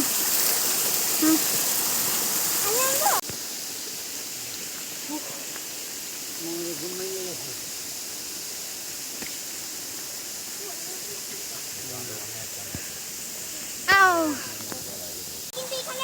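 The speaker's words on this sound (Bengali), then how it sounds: "এই সেই ঝর্ণা আমরা খুঁজে খুঁজে আসলাম এই হলো ঝর্ণার চেহারা" Steady rushing water from a waterfall in a hilly area, a continuous broadband hiss running throughout with short bird chirps and brief voices at moments over it.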